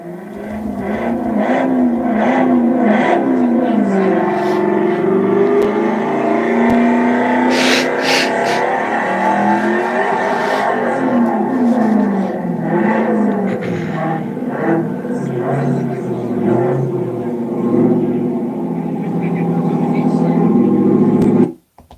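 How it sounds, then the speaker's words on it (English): Simulated V8 engine rumble played through the sound system of an electric Ford Mach-E, a continuous deep growl with revving swells lasting over twenty seconds, loud and close, with a voice talking over it and a sudden cutoff at the end. "helps your electric truck or your Mach-E sound like it has a V8 engine, and I mean one heck of a V8 engine"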